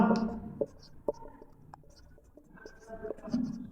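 Pen writing an answer by hand on paper during a class 10 maths lesson, soft scratchy strokes with brief taps, faint and close, with no talk over it.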